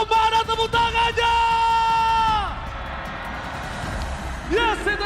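A full-house crowd at a Mobile Legends esports playoff in Jakarta's International Velodrome cheers and whoops loudly. A sustained, ringing yell rises above the crowd, then the roar settles into a steady wash that swells again near the end.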